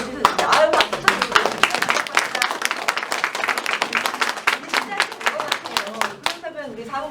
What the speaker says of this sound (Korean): 아유 박수 좀